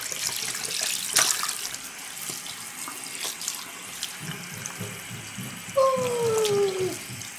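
Tap water runs steadily into a tub for rinsing Webkinz plush toys, a continuous splashing rush with a faint squeak near the end.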